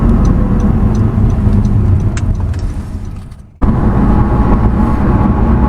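A car travels through traffic on the eastbound side of Highway 114, with steady engine and road noise heard from inside. The drone dips briefly, then resumes at full level.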